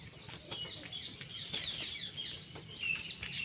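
Pigeons soaked by rain, some held in hand, give a steady flurry of close, bright chirping calls with occasional wing rustles, continuous and fairly loud with no talking.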